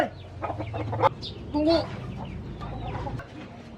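A chicken clucks close by in brief bursts, mixed with a voice talking over steady background noise.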